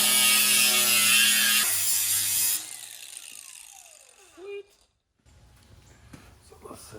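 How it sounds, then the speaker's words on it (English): A set screw being tightened on a collar during a motorcycle build, heard as a short run of close ratcheting clicks from a hand tool that fades into quieter shop noise. "then I'll tighten that set screw, and that'll hold perfect"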